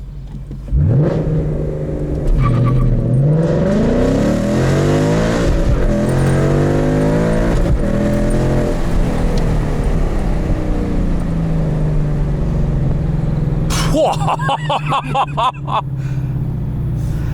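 A 2016 Ford Mustang GT Premium Performance Pack with manual gearbox revs hard and launches with launch control, roaring loudly through rising gear sweeps up close, with a sharp burst of rapid popping near the end.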